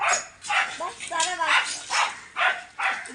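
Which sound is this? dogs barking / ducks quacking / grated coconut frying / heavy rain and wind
dogs barking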